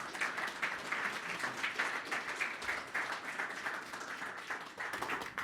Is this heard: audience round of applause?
yes